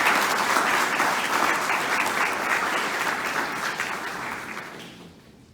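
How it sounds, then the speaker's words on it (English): A large audience applauds loudly and continuously at a talk, the clapping holding strong and then fading out over the last second. "Please give yourself a big round of applause."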